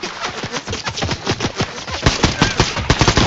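Rapid automatic gunfire in a Fortnite match, sharp repeated shots in quick bursts, loud and close, running continuously with no talk over it.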